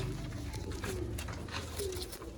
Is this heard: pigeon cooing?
yes